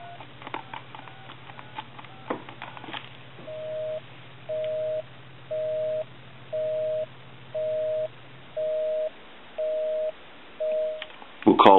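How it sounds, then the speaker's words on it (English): A telephone busy signal repeats as evenly spaced tone bursts, about eight in a row, following a low steady hum, clear and close on the line. "We'll call my number and it'll be busy."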